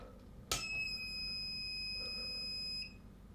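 A Hakko T12 clone soldering iron gives one sharp startup click, then a single steady high-pitched electronic beep held for about two seconds, close and alone.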